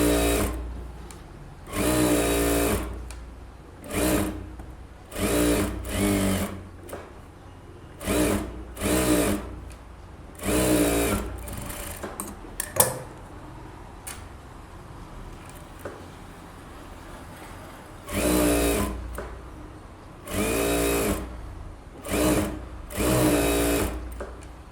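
A sewing machine stitches the lining of a blouse in repeated short bursts of whirring, stopping and restarting with quiet pauses between runs, close up and alone without speech.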